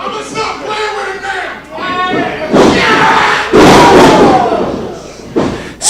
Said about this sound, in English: Right hand flooring Jimmy the Jester